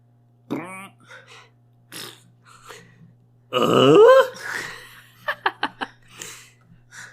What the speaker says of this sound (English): I think the farting comes